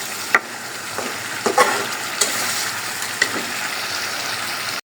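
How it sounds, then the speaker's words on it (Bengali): A katla fish head frying in spices in a pan, with a steady close sizzle broken by a few sharp scraping stirs; the sound ends abruptly. "মাছটা কষানো হচ্ছে"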